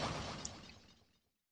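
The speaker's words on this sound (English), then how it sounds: "that's the sound of a Styler when it bursts" A Styler bursting in the Pokemon Ranger video game: one sharp shattering crash at the start, breaking-glass debris fading out over about a second, then silence.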